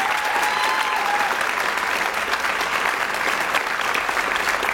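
An audience applauds the Student Leadership Award winners at a PVCC event, a sustained, full round of clapping that stays loud and even throughout.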